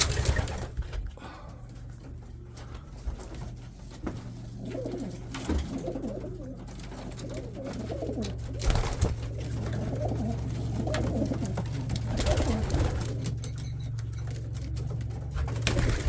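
Racing pigeons in a loft coo with soft, low, repeated throaty calls that overlap steadily against a quiet background.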